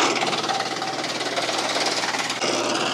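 Tractor PTO-driven wood chipper chipping tree limbs, a loud continuous rattling, pounding roar right up close, with a brief dip near the end as a limb feeds through.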